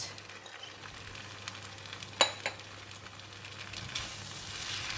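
Bean sprouts go into a hot pan of fried kuey teow and sizzle softly, a low steady hiss punctuated by a couple of sharp clinks of a utensil and a rising hiss near the end.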